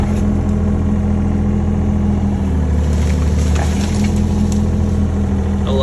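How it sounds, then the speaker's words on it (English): A mini excavator's engine runs steadily up close while gathering firewood logs, a continuous mid-pitched diesel drone with faint clanks of handling over it, no talking. "I love gathering logs here with the excavator."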